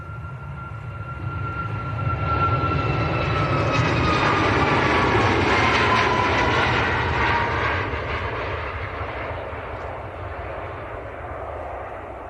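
An Emirates A380 airliner in new livery takes off down a runway at Manchester Airport, a broad, steady jet roar that swells over a couple of seconds, holds loud for several seconds with a faint high whine, then slowly fades.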